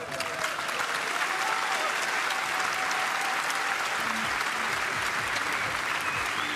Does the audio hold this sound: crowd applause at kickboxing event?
yes